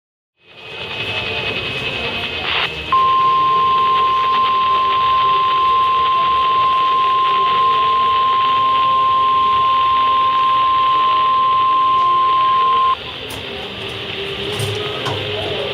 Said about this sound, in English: The preceding signal was a test of a public warning and alarm for transmitters in the Florida listening area